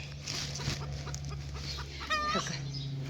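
Free-range country hens clucking softly at close range, a scattered series of short calls with one longer drawn-out cackle near the end, no talking.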